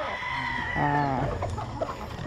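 Battle stag roosters close by, one giving a loud crow over a bed of overlapping clucks and fowl chatter, all dense and near.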